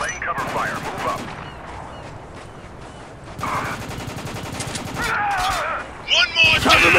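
Automatic and rifle gunfire in the war shooter game Spec Ops: The Line, loud rapid bursts with brief gaps, layered with shouted combat voices and sharp bursts near the end.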